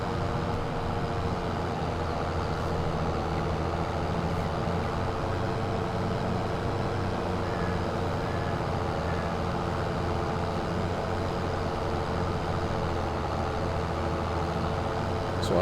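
A New Holland T9 tractor in Farm Sim 22 labours up a hill, its engine a steady, heavy diesel drone that holds constant and loud throughout, with no talk over it.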